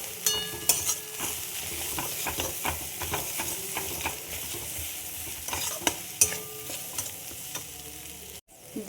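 Green pea paste frying in a pan, a continuous close sizzle under frequent spatula stirring and scraping, with a few sharp metallic taps and a brief cut near the end, no talking.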